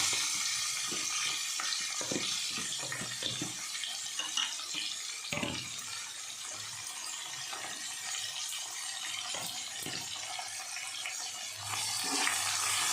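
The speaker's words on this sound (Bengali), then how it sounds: "পেঁয়াজটা একটু ভাজা হবে।" Continuous sizzling and crackling of onion frying in a pan, with occasional scraping and stirring knocks over a steady hiss.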